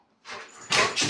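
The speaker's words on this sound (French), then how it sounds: "quand c'est pas les enfants qui font du bruit, c'est les chiens" Jerry, a pet dog indoors, gives a short, sharp yip followed by a louder second bark, close by and alone, within about a second.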